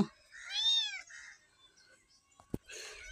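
A local cat gives two clear, close meows: a long rising-falling one, then a shorter cry after a quiet gap with a small knock between them.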